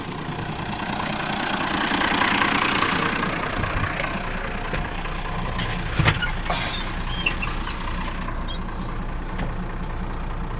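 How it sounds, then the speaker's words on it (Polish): A Renault 145.14 tractor engine runs steadily on a farm during manure spreading, a loud continuous rumble with a brief knock partway through and no talk. "Wsiadamy tutaj do ciągnika i jedziemy rozwozić ten obornik na polu."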